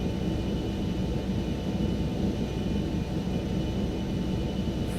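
Steady, continuous engine rumble of an ERJ airliner departing runway 30 in a flight simulator, a broad even roar with no talk over it.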